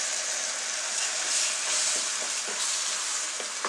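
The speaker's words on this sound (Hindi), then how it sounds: "और अभी हम इसमें मिलाएंगे अपना टमाटो, अदरक, हरी मिर्च और लहसुन का पेस्ट" Tomato, ginger, green chilli and garlic paste frying in ghee for restaurant-style dal makhani, giving a steady, close sizzling hiss with faint spattering throughout and no talking.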